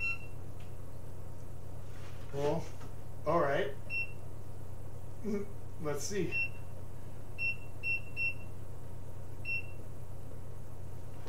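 Oven timer in a home kitchen giving several short, thin electronic beeps, spaced irregularly over a steady background hum, with a person talking briefly nearby.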